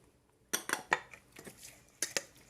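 Thai fried egg salad being tossed with onion in a bowl, a few sharp clinks and scrapes of utensils against the dish in quick irregular bursts, close and clear with no talk.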